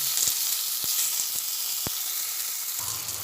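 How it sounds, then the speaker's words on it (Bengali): Spiced cabbage with garam masala and cumin powder sizzles steadily in a pan, with a few sharp spatula clicks and scrapes as it is stirred close by; no voices. "একসঙ্গে সব মিশিয়ে ভালোভাবে আবার নাড়াচাড়া করে নিচ্ছি"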